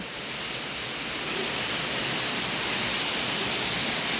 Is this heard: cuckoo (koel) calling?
no